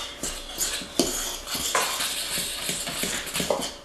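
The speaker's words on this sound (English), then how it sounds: "And I'm just going to use a fork." A fork scrapes and taps against a bowl, mixing melted butter into a crumbly cinnamon crust mixture for a rhubarb or cherry crunch, in close, irregular clinks and scrapes with no talking.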